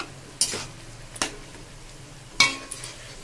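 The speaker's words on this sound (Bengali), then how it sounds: "এবার আমি হালকা একটু আবার লবণ ছেড়ে দেবো, দেওয়ার পরে আবার ঘুটবো" Food being stirred in a cooking pan right after salt is added, with a few sharp utensil scrapes against the pan over a quiet sizzle, close and fairly soft.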